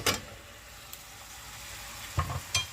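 Diced pork frying in a pan with vinegar for adobong sitaw, a steady soft sizzle with a few brief stirring scrapes near the start and end.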